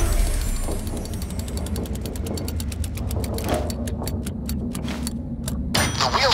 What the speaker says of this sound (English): The wheel stopped on Dozer